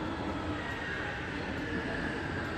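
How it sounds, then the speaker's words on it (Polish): A subway train rumbling through a metro station, a steady loud roar of wheels and motor with a faint high whine running through it, constant from start to end. "jedziemy do metra"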